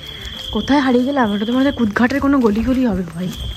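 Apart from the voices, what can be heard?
crickets chirping in night lane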